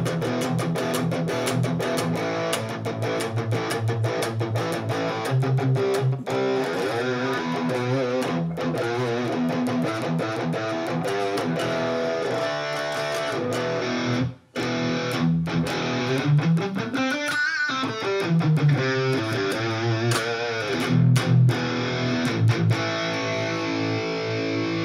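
Electric guitar played through a pop-style distortion setting on a Mooer GE-1000 multi-effects unit, with a changed capacitor, giving continuous dense distorted chords and riffs with a brief dropout near the middle, no voices.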